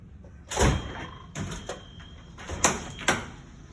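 A back door is unlatched and pushed open for an emergency exit, with a series of sharp clicks and clunks, close by, in a quiet room.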